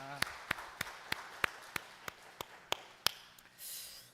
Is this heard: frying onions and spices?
no